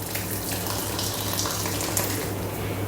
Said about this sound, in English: I'm going to pour boiling water over this